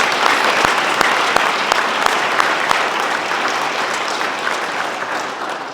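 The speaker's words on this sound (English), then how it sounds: "let's give them a round of applause." Dense, loud applause from a dinner audience at an ethics and integrity awards event, a steady wash of many hands clapping close by that tapers slightly toward the end, with no talk over it.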